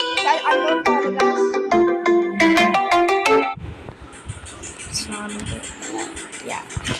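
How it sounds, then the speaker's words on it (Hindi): A mobile phone rings with a melodic ringtone for an incoming call during a mobile shooting game session, a loud tonal melody for a few seconds before it cuts off and gameplay noise and a voice continue. "गाइस मेरा कोई फोन आ रही है, शायद अननोन कॉल है"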